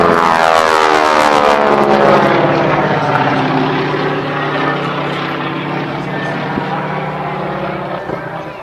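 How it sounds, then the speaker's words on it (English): A loud aerobatic propeller plane at an air show drones overhead and slowly recedes, its engine pitch shifting as it passes, with a brief uneven stutter as the engine sputters. "did you hear that little sputter?"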